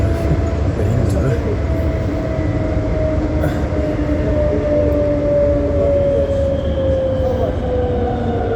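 A VAL 208 automated metro train runs along Lille line 2, a steady loud rolling rumble with a sustained motor whine slowly falling in pitch throughout, heard from on board.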